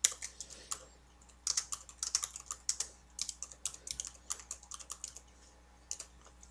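Steady close typing on a computer keyboard, a rapid run of crisp key clicks in uneven bursts with brief pauses, quiet and alone.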